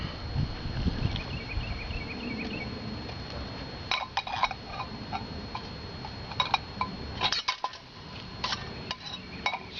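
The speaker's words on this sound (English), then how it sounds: "Go ahead and stir this up a little bit." Food being stirred in a pot outdoors, with quiet metallic scrapes and clinks of a utensil against the pot, occasional louder taps amid low background noise.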